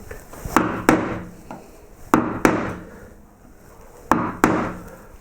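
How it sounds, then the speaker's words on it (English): A wide chisel cuts into wood in sharp paired strikes, three pairs of crisp, close knocks spaced a couple of seconds apart, with faint scraping between them. "Got to use a wider chisel here."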